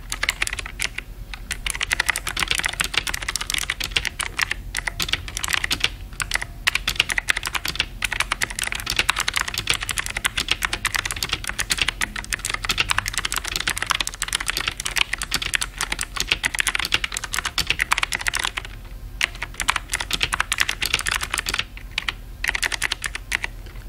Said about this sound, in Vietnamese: Bây giờ mình sẽ thử gõ một đoạn văn bản cho các bạn xem.